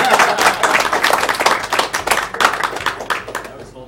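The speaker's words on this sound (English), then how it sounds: "round of applause for the David Eric." Steady applause from a small live speedrun event audience, dense clapping close by that fades out toward the end.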